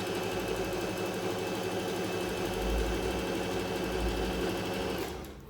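Pfaff Smarter sewing machine running steadily on a normal straight stitch, a close, continuous mechanical whirr with rapid needle clatter that winds down at the very end.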